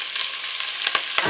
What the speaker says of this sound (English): pop a good glug of oil in, and I've chopped up 2 onions so they can go in as well